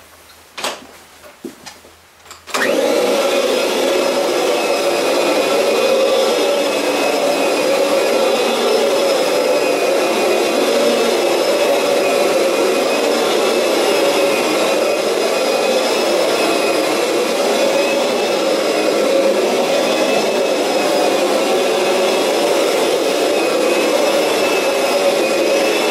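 Kirby carpet shampooer switching on after a few clicks and running continuously close by, a loud, steady vacuum-like roar and whine with no talking.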